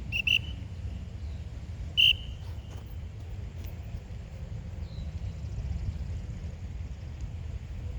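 Two short, sharp whistle blasts, one near the start and one about two seconds in, over a steady low background rumble.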